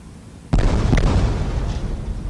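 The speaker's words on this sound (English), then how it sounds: "Sonic booms announcing Columbia's arrival in the landing area." Space Shuttle Columbia's sonic boom before landing hits as one sudden, loud blast, then rolls into a long rumbling decay that fades slowly.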